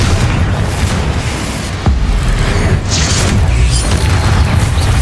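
A Confringo fire spell explodes in the Hogwarts Legacy video game with a loud, sustained rumbling boom and crackling blast that swells again midway and fills the whole stretch.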